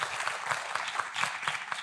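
An audience at an information session on the artist's professional statute claps in a dense, even patter of many hands, moderately loud and sustained, with no voices over it.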